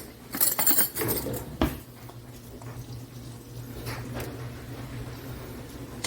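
Metal spoon clinking against a dish while a cheesy Polish sausage pie filling with mayo and eggs is mixed, a few sharp close clinks early on, then quieter scraping over a low steady hum.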